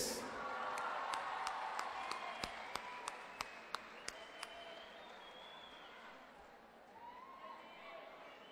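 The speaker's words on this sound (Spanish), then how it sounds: "Y lo invitamos con este fuerte aplauso." At the Copihue de Oro 2012 awards, a live audience applauds with a dense wash of clapping and crowd noise. A string of sharp repeated hits runs through the middle, and the applause fades toward the end.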